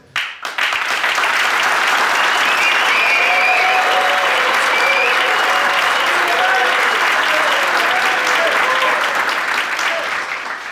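Loud, sustained audience applause for a band at a Christmas party, dense clapping with cheering and whoops over it that holds steady for about ten seconds.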